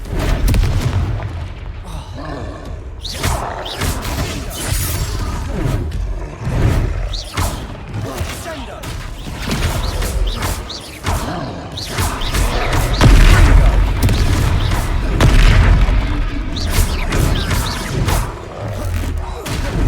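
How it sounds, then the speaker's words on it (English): Confringo spell blasts in Hogwarts Legacy during a troll fight, with loud booming explosions and heavy crashing thuds that come in repeated bursts and sit over dense battle noise and a little game dialogue. "Look out! Confringo!"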